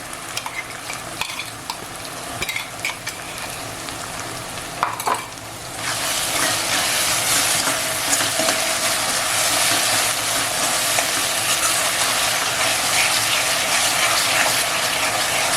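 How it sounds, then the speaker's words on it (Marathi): Schezwan chutney chili paste fries loudly in oil, a steady, dense sizzle that swells after a few seconds of softer stirring and scraping, close and continuous with no talking. "सर्व मिश्रण एकदम छान प्रकारे मिक्स करून घ्यायचं हो छान असं ना जरा फ्राय एकदम व्यवस्थित करायचं तेल सुटेपर्यंत"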